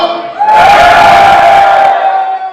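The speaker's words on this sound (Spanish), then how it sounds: "¿cómo era el grito de júbilo?" A church congregation lets out a loud, sustained shout of jubilation, many voices rising together for about a second and a half before fading.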